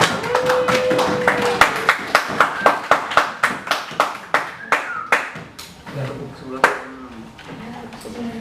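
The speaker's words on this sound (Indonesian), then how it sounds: "tepuk tangan untuk kelompok 3" Classroom applause for a student group, a rhythmic run of clapping with evenly spaced claps that loosens toward the end, under a teacher's voice.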